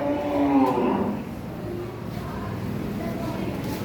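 A buffalo heifer on a dairy farm gives a low, drawn-out moo at the start, then fades into steady background noise with faint voices.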